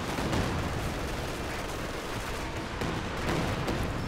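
In Company of Heroes, a 4v4 Soviet match on Port of Hamburg, machine gun and mortar fire crackle through a dense, continuous wash of battle noise with scattered thuds and no talking.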